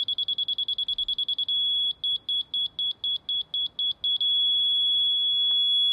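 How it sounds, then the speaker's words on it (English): A laser level receiver held against a backyard grade stake sends out rapid high beeps, then slower evenly spaced pulses, then one long steady tone, piercing and close with no talking. "Right on the money there. Nice long beep."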